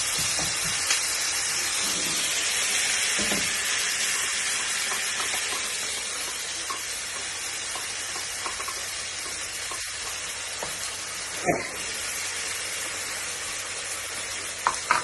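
Two medium onions frying in a pan at home, giving a steady broadband sizzle throughout with a few faint clicks and taps, and no voices.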